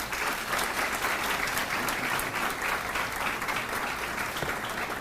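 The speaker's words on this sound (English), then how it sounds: "Give them a round of applause, please." Steady, dense applause from a banquet audience honoring senior football players at an all-sports banquet, a continuous wash of clapping with no voices over it.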